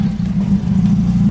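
A Mazda Miata engine, freshly fitted with new NGK Iridium spark plugs and still not running perfectly, idles in a steady low drone with a slightly uneven pulse, close and loud and alone for just over a second.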